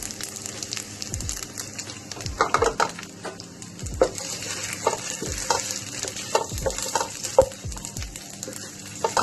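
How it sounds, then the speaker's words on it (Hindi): Semolina (sooji) balls with red chili powder fry in a pan with a steady sizzle, while a utensil scrapes and clinks against the pan in repeated stirring strokes. "बॉल्स को डाल के थोड़ा सा फ्राई करना है"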